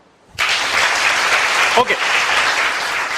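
An audience claps together at a talk on spirituality, a dense, steady wash of applause that starts abruptly and holds; a single voice speaks briefly over it.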